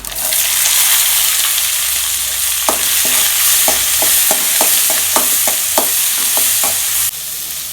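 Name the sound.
shallots frying in oil for moringa leaf dal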